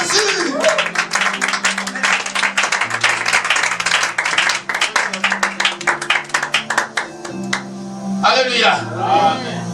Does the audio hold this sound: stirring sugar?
no